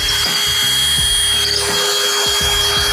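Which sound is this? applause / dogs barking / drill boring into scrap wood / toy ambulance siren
drill boring into scrap wood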